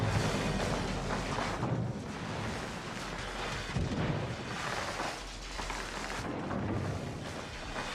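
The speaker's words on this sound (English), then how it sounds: "Well, a ricochet." Naval gunfire in the World of Warships video game, with deep rolling booms and rumbling shell impacts layered in a dense, continuous battle din.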